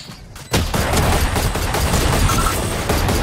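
Sustained loud automatic gunfire in Valorant, a dense continuous spray of shots that kicks in abruptly after a quiet moment and keeps going to the end.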